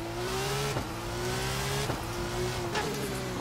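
An F2 race car at Marina Bay in a racing video game, its engine droning and shifting pitch through a corner as the car slides, with brief tire-scrub bursts cutting through the steady motor note.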